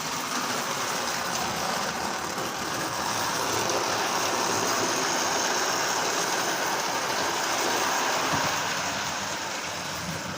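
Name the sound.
model train military engine running on layout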